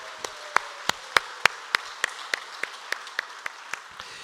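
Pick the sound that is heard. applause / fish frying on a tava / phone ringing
applause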